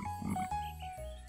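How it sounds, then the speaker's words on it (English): Cartoon frogs in a swamp croak alone in a few low, throaty bursts, with a clear tonal line above, loud and close, with no talking. "The frog lives in the swamp with a lot of other frogs. Ribbit, ribbit."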